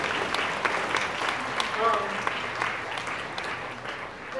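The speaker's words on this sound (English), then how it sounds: "please don't clap for me" Enthusiastic applause from an audience fills the clip, steady clapping with a few whoops and cheers mixed in.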